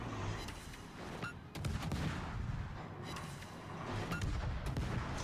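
Naval gunfire from World of Warships, with repeated booming shell salvos and blasts layered over steady battle noise, some shots sharp and close, others duller and more distant.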